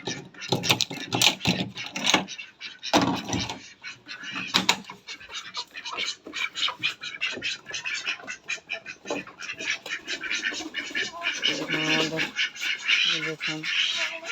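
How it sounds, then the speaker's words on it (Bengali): Local and Chinese ducks quacking as they are let out of their house together with chickens and roosters, a busy, continuous chorus of quacks and squawks close by, with people talking over it. "আর এখানে আমাদের দেশি হাঁস, চীন হাঁস, আমাদের মুরগি মোরগ চলে যাচ্ছে।"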